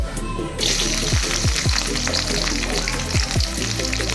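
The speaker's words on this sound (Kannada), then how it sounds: "ಒಂದು ಬಾಣಲಿಗೆ ಒಂದು three to four table spoon ಇಷ್ಟು ಆಯಿಲ್ ಹಾಕ್ಕೊಂಡು ಉದ್ದುದ್ದ ಕಟ್ ಮಾಡಿದಂಥ ಒಂದು ಈರುಳ್ಳಿ" Long-sliced onion fries in three to four tablespoons of oil in a pan, with a steady close sizzle and bubbling and a few soft clicks of a utensil, no voices.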